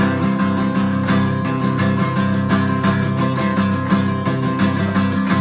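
Electric-sounding guitar bass notes and strums played unevenly while moving from the 5th to the 6th string, ringing and slightly messy, loud and close with no talking.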